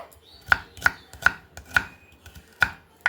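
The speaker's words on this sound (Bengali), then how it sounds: "পরে পেঁয়াজটা দেখুন এইভাবে আমি একটু বড় বড় করে কেটে নেব" A knife chops an onion into large pieces on a board with about seven sharp, separate thuds at an uneven, unhurried pace. The chopping is close and alone, with no talk over it.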